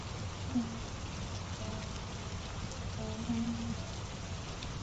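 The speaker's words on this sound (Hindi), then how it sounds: "रामू बाहर बारिश देखने चला जाता है।" Steady rain falls in a Hindi cartoon, a dense even hiss of drops on surfaces with a few faint tonal sounds in the background.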